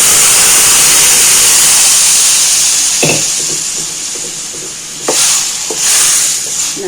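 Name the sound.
cooked bottle gourd and lentils added to sizzling tempering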